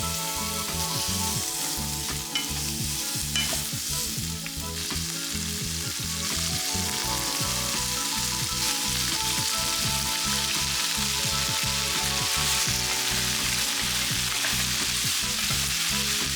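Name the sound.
sauteing peppers and onions in oil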